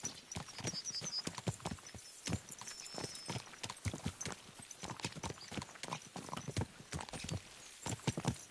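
Horses gallop in the medieval video game Kingdom Come: Deliverance II, with steady rapid hoofbeats that stay loud and close the whole way through, carrying brisk, driving clip-clop rhythms.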